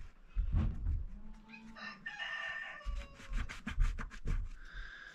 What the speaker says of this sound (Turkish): Horoz sesi güzeldi Fatih.